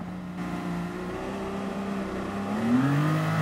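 Engines of GT Sport race cars, a Porsche among them, rev and accelerate together in a steady drone whose pitch climbs and rises sharply near the end, loud and close with no talk.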